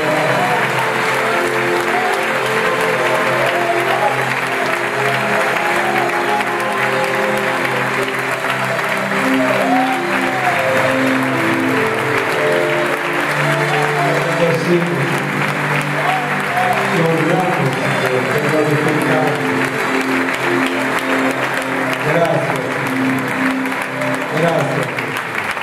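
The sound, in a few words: applause of gratitude in church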